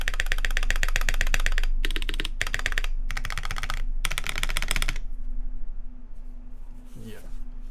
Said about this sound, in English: This spacebar is louder.